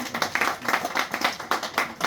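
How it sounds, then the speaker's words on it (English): Light, uneven clapping from a small audience at a primary school award ceremony, a few pairs of hands pulsing in bursts at close range. "Could you have a round of applause, please?"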